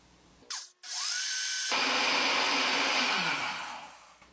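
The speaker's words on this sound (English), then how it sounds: "the Ace will blend the soup by pulsing in 7-second intervals" An Ace blender pulses to purée a root vegetable soup: a brief whir, then a steady, loud motor roar for a couple of seconds that slowly fades, with no talking.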